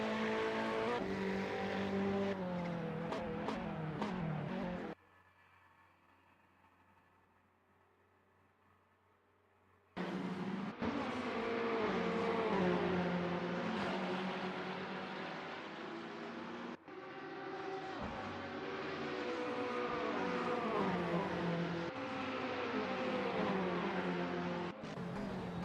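Race cars roar together in a Gran Turismo race at Bahrain's Sunshine Island circuit, a pack of Porsches and Mercedes. A dense, loud engine drone fills the track, drops to a quiet lull for several seconds, then surges back in.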